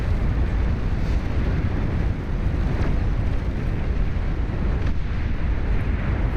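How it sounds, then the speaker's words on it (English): Deep, rumbling explosion of an Aphis unit in the strategy game Beyond All Reason, a dense roar of low noise that keeps up steadily without clear breaks, loud and without talk. "Boom goes the Aphis. It also has a pretty wonderful explosion."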